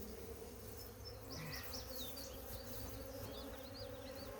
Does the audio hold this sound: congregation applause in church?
no